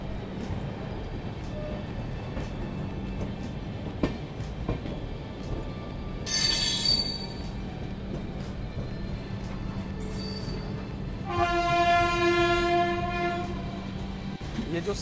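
The Yesvantpur to Howrah Duronto Express runs along the track with a steady rumble from inside the train, a hiss around six seconds in and a loud horn blast near the end.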